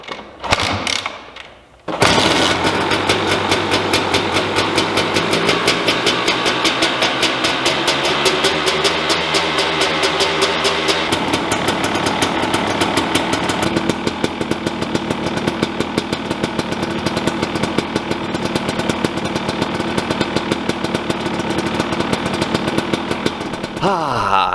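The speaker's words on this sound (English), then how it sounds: "I can start it up for you guys so you can hear the sweet, sweet two-stroke noises" A two-stroke motorcycle engine kicks, catches and settles into a loud, close, rapid popping idle with a raspy buzzing rhythm that holds steady for the rest of the clip, with no voices.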